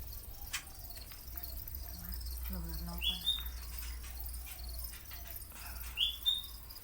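Young crickets chirp at a small bird farm in Chonburi, Thailand, giving brief high tweets over a low steady hum, with faint scattered clicks and chirps throughout.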